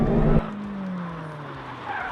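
Hot hatch car sliding through a handbrake J turn, a short loud burst of engine and tyre noise that cuts off abruptly and leaves a fading squeal and rumble.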